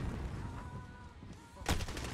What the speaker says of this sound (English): he was even trying to shoot at me